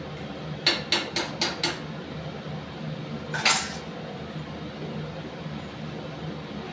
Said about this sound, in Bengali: তার ঘিটা তোলার জন্য আমি একটা চামচ নেব। দেখো একটু ঘি দিয়ে দিচ্ছি।